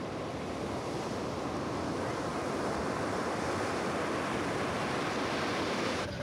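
Ocean waves roll onto Varkala beach in Kerala, India, a constant loud wash of surf blended with wind rumble on the microphone, unbroken and with no voices.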